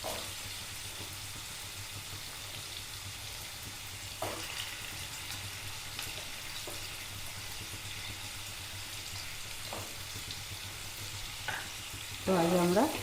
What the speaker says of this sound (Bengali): তো আগে আমরা আলুটা ভালো করে ভেজে নেব।